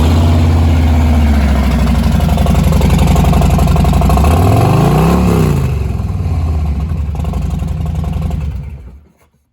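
A 2018 Harley-Davidson Softail Low Rider with a Vance & Hines aftermarket exhaust idles loudly up close, gives one brief rev midway, then cuts off.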